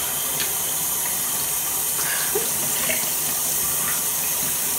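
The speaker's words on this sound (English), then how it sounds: "I wet my rag." A rag held under a running tap at a bathroom sink, water streaming steadily and fairly loud for the whole stretch with slight splashing changes, no talking.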